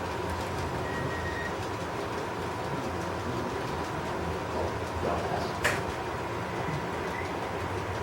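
Model railroad trains run steadily around a layout, a passenger train and a freight train crossing paths, giving a continuous low rumble and rail noise throughout with a brief sharper rattle near the end.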